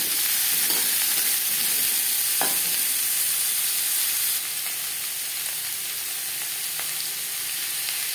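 Pieces of papaya fry lightly in hot oil in a pan, giving a steady, close sizzling hiss that runs unbroken with a couple of faint knocks and no voices.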